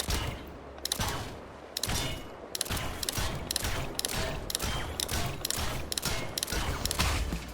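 Rapid, steady gunfire in Trailmakers shooting at a building panel, about fifteen evenly spaced loud shots in a row with no talking.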